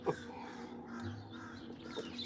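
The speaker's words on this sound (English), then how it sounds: "You hear that old crow?" An old crow outside near a porch, caws rising over a low steady hum, with a couple of harsher calls toward the start and near the end.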